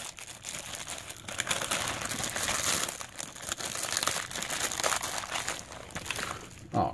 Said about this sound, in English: we will go ahead and rip open the second bag here